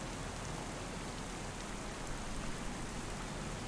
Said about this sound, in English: Is it because it's raining?